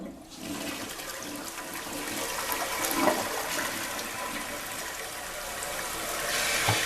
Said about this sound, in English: the flush is pretty good